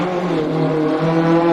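A rally car powers through a gravel special stage in Whangarei, New Zealand, its engine note rising steadily as it approaches, loud and close, with no talk over it.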